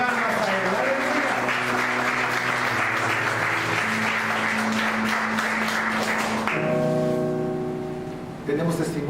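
A church congregation applauds during a service, a sustained round of clapping over held organ or keyboard chords, with the clapping fading away near the end.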